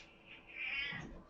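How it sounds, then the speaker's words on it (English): A Scottish Fold cat gives one short, drawn-out meow, close and fairly soft, in a quiet indoor room. "Alright, I'm gonna show you guys my cat."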